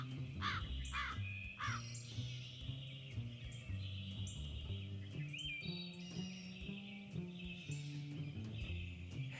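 Several harsh caws from a crow ring out over a dense, busy background of layered tones and chirps, the calls clustered near the start and repeating at intervals.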